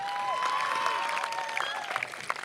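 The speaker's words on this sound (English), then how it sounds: "Little round of applause for that one, right?" Applause at an outdoor high school graduation ceremony mixes with cheering and whoops, the crowd clapping steadily while high excited voices rise above it.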